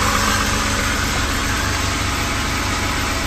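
A BMW E36 323i with an M52 inline-six idles steadily after a camshaft swap, a loud, even, continuous engine hum close by with no voices.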